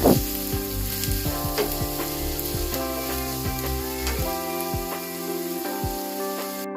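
Onion fries in oil toward golden brown with a continuous crackling sizzle, partly masked by background music with a steady melodic line.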